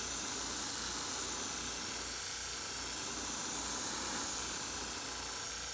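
Steady, continuous hiss of spray paint close by, applied onto a deep-diving fishing lure, unbroken for several seconds with no voices.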